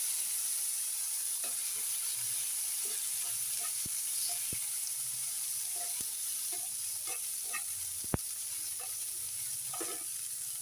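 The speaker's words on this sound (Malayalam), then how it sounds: "വറ്റൽ മുളക് ചൂടാക്കിയിട്ടുണ്ട് അതിൻ്റെ കൂടെ ഒരു തക്കാളി വെളുത്തുള്ളി സവാള ഒന്ന് വാട്ടിയെടുക്കണം" Dried red chilies heating in oil in a pan, a constant soft sizzle with scattered small pops and a few sharp clicks of a utensil against the metal.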